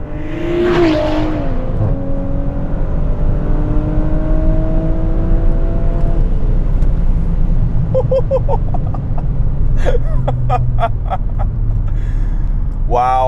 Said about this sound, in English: the car is just hopping the entire way